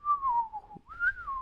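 A man whistles a bright, wavering tune to imitate someone cheerfully whistling in a kitchen: two close, clear phrases with a brief dip between, with no other sound.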